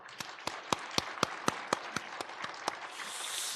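A slow, evenly spaced series of sharp hand claps, about a dozen, fairly faint and distant, ending in a brief wash of hiss, during a Sunday morning church service.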